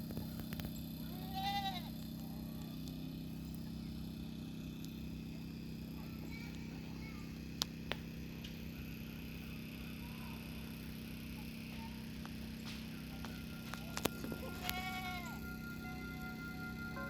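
Two short goat bleats, one near the start and one near the end, over a steady low farm hum and faint background activity on a pig farm.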